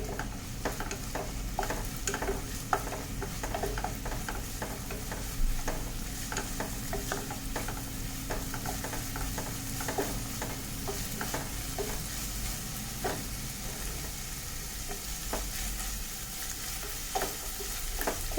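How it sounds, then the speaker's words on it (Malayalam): Curry leaves and vegetables for oats upma sauté in a hot pan. A loud, steady sizzle runs throughout, and repeated scraping and stirring strokes keep a regular rhythm close by. "നന്നായി വഴറ്റി എടുക്കുന്നുണ്ട് ഞാൻ എന്തായാലും."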